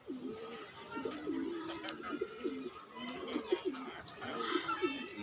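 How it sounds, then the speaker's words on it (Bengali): A female pigeon coos in repeated soft, rolling phrases throughout, close by, with other bird sounds and some human voice activity mixed in the background. "একটা ভালো একটা মাদি কবুতর।"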